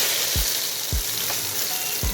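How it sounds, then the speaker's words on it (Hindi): Dried red chillies dropped into hot oil for a kadhi tempering, giving a steady broadband sizzle with a few brief thumps of stirring or dropping, close and continuous, no voices. "सबसे पहले हम ऑयल को अच्छी तरह से गर्म करेंगे, फिर हम इसमें जी मोटी मिर्च शामिल करेंगे।"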